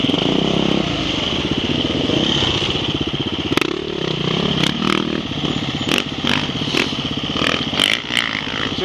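An enduro motorcycle engine revs steadily and loudly on a cross-country trail, with a continuous close-up drone and rattling clatter, and sharp bursts of noise break in toward the end.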